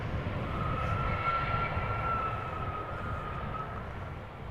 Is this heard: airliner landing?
yes